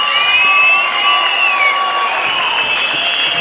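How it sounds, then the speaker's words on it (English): A boxing fight crowd rises in a standing ovation, with loud, continuous applause and cheering filling the arena throughout, high whistles cutting through the roar. "Come on, how about a standing ovation?"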